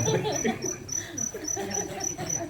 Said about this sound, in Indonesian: Terus di kampung ya begini jangkrik ada